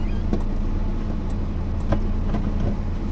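A car engine hums in a low, steady drone during a first driving lesson, with a few faint clicks and knocks over the constant rumble and no talking.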